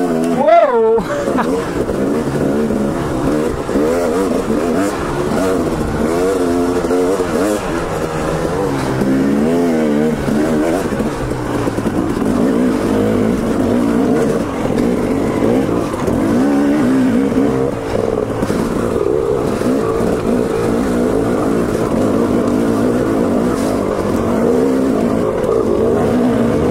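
Two dirt bikes, a KTM and a Honda CR250R two-stroke, ride together off-road with a loud continuous engine buzz that revs and shifts pitch throughout, while a rider's voice talks and exclaims over the engines.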